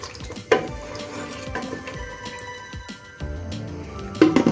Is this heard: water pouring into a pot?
yes